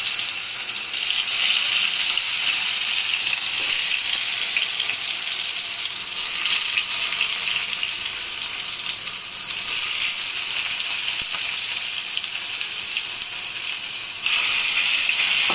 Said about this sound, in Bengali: বেগুনগুলোকে ভাজবো।